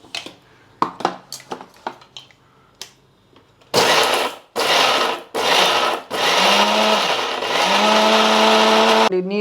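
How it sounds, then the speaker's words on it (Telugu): A mixer grinder grinds ginger, garlic and turmeric into paste in short loud whirring bursts after a series of knocks, with the motor revving and winding down several times before running steadily. "అదిగోండి మిక్సీ కొట్టేస్తాను"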